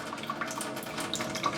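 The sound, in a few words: water running from kitchen faucet to drain pipes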